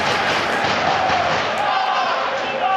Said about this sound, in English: crowd excellent